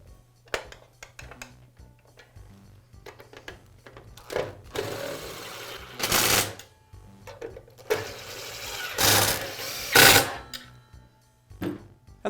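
Screws being fastened on a belt cover of a DeWALT miter saw: repeated short whirring bursts and clicks of a driver with pauses between, close up, over a steady low hum.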